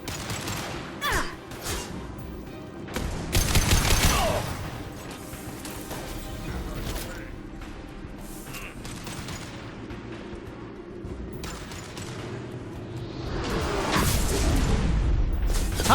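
Gunfire rattles through a firefight in the video game Mass Effect 2: repeated bursts and impacts, the heaviest near the start and the end, over a constant layer of battle noise.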